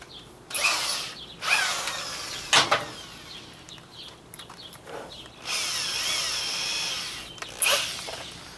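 A power drill whirs in several short bursts, then one longer run, grinding into the body of a Chevrolet G-series van, with rattling mechanical noise between bursts.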